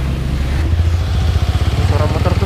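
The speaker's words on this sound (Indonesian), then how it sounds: "Suara motor tuh sudah bermasalah ini, apa namanya bagian pistonnya" A touring motorcycle's engine with a suspected piston fault runs up close, a rough low throb that settles into a fast, uneven pulsing beat, loud and continuous with the rider's voice faintly mixed in.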